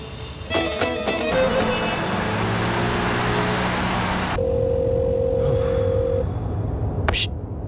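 An unanswered phone call rings out against a steady background of car traffic, the ring and dial tones loud and close, with a long flat tone ending in a sharp click.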